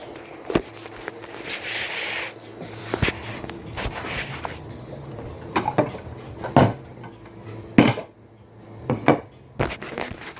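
Dinner plates are set out on a table for a Salisbury steak meal, giving several sharp clinks and knocks of dishes and cutlery spaced irregularly amid quiet shuffling, close by.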